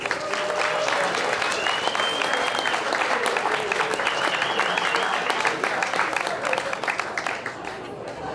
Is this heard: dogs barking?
no